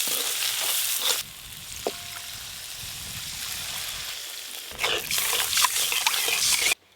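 Loud hissing sizzle of masala with chopped tomato frying in a pan, stirred with scraping sounds, briefly quieting in the middle before sizzling strongly again and cutting off abruptly at the end.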